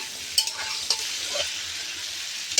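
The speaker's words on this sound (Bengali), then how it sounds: "আমার আলু আর বেগুন লাল লাল করে ভাজা হয়ে গেছে।" Potatoes and eggplant fry in a pan with a steady, close sizzle, broken by a few sharp clicks and scrapes of stirring.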